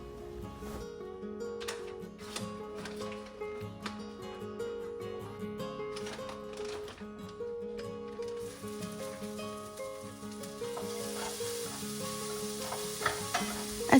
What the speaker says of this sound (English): here's me making rice and fake meat for the filling